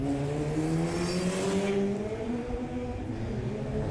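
Race cars roll out onto a circuit behind a safety car, engines droning and rising in pitch as they pass at moderate distance, steady and fairly faint with no talk.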